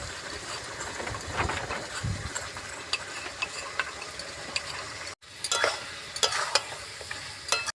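Spice paste poured over boiled mutton and potatoes in a pot for a Bengali mutton curry, then stirred, giving steady scraping, stirring and soft sizzling with sharper clinks after a brief break.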